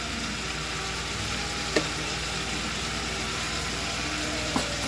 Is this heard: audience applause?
no